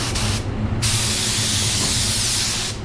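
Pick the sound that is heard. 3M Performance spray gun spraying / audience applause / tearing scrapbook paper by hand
3M Performance spray gun spraying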